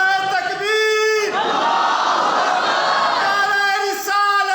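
A crowd at a religious gathering roars back a loud shouted response to an Islamic slogan, a sustained massed cry between stretches of a single amplified voice chanting.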